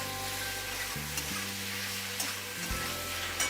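Paneer and capsicum sabzi frying and sizzling steadily in a pan while being stirred, with a constant near hiss and low scraping, no talking.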